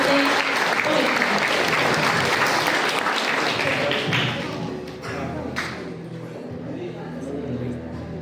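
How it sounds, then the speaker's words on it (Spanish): Loud crowd applause greets a student speaker at a school essay and speech contest. It runs strong for about four seconds, then thins into scattered claps with some thumps and background voices. "Para animarlo, lo recibimos con fuertes aplausos. Aplausos para el estudiante Boite."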